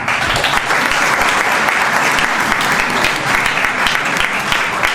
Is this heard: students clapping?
yes